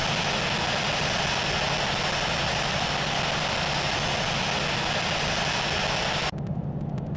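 A Delta Airbus A350 taxiing toward the runway, giving a loud, steady roar of jet engine noise that fills the scene and shifts slightly in tone near the end.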